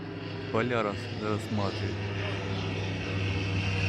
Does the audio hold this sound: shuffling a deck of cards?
no